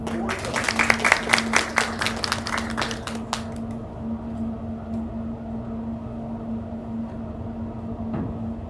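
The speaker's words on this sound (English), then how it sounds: "Let's give our school board members a round of applause." A roomful of people at a school board meeting gives a short round of applause for board members, the clapping fading out after a few seconds and leaving a steady low electrical hum.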